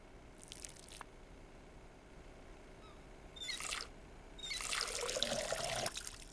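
In the video game Schedule I, water is poured in for a growing plant: a faint short splash, then a quick trickle, followed by a longer, louder pour that runs for over a second.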